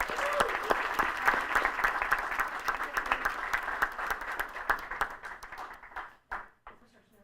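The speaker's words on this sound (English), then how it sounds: "Let's give them all a big round of applause." Audience applause at a school board meeting, a sustained burst of many hands clapping at moderate loudness that thins out and fades to scattered claps near the end.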